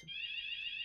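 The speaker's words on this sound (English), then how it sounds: "Is that goddamn alarm?" An alarm going off indoors gives a steady, piercing high-pitched electronic tone that holds loud and unbroken throughout, with no talking.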